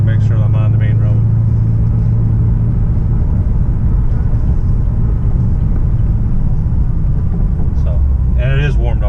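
A ZL1 engine with an X-pipe exhaust, fully warmed up, rumbles with a deep, steady drone close by, swelling slightly in a smooth rev as someone talks over it near the start and end.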